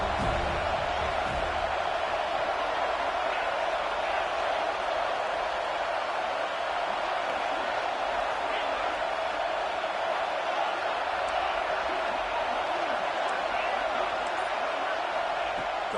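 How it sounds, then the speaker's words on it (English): Stadium crowd noise in a college football video game, FSU vs Purdue, a dense constant roar of thousands filling the background at an even level for the whole stretch. "Third down and the crowd really getting into it."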